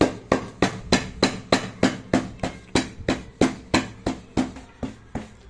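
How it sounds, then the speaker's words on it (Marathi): Hands pat jowar (sorghum) bhakri flatbread dough into shape, a steady run of about fifteen sharp, close slaps in an even rhythm. "आता आपण खाली पीठ चाळून घेऊया आणि भाकरी थापायला चालू करू।"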